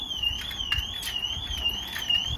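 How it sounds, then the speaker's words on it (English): A car alarm sounds continuously near a Subaru WRX STI, its wavering electronic tone rising and falling steadily throughout over low background rumble. "I keep getting interrupted by a fucking car alarm going off"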